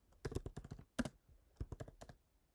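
A computer keyboard clatters under quick, close finger taps, bursts of crisp key clicks separated by short pauses, entering a command on a Windows machine.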